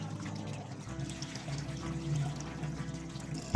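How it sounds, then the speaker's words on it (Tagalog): Rice being rinsed under water before cooking for Dimbeng-type rice wine; soft continuous splashing and trickling close by, with a bump at the end. "Huhugasan natin yan para mabawasan yung kanyang mga alikabok."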